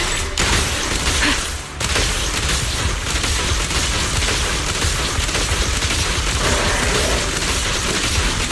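Sustained suppressing gunfire rattles nonstop in the action video game Zenless Zone Zero, a dense, loud wall of rapid shots and booms with only a brief dip partway through.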